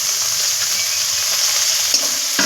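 Cumin, pepper and fresh coriander leaves sizzle in a hot pan, a loud, constant hiss of frying with faint stirring scrapes and a small knock near the end.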